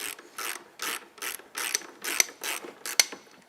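A ratchet wrench loosens the single bolt that holds a blade, with about eight even, rhythmic clicking strokes heard close up and alone.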